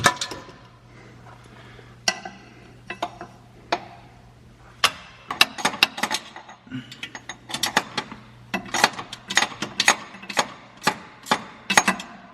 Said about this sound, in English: wrench those down nice and snug. And these are, again, like I said at the beginning, all 13mm bolts